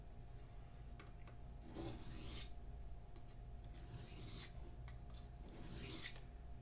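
A knife edge is drawn across a sharpening stone in a few slow, faint scraping strokes, each a soft rasping swipe over a low steady hum.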